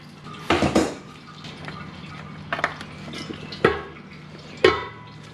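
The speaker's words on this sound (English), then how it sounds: "we're gonna go ahead and we're gonna remove the oil filter" Oil filter removal on a Lincoln MKZ: several sharp metallic clanks and knocks spaced a second or so apart, with faint dripping and handling noise between them, close by.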